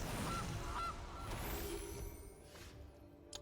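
A goose in the card game MTG Arena lets out two short, quiet honks early on, followed by soft game effects and a faint chime.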